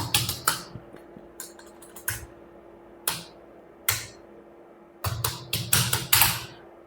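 Keys on a computer keyboard are tapped to type a comment in Microsoft Word, coming as sparse, crisp clicks in short bursts with pauses between them, close and fairly quiet.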